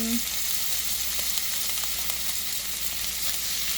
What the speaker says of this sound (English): I'm going to put around 3 spoons of soya sauce